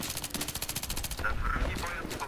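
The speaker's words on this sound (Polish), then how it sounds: "Trzy strzały." Gunfire in the video game Battlefield 3: a rapid burst of automatic shots in quick even rhythm, loud and close, then a few scattered heavier reports with game noise afterward.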